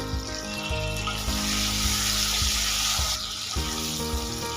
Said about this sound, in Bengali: বাকি তিনটা মিডিয়াম সাইজের আলু এইভাবে ডুমো ডুমো করে কেটে নিয়েছি বাকি তেলের মধ্যে ভেজে নেবো